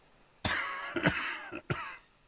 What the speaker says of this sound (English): He coughs once more, then puts his hand on his belly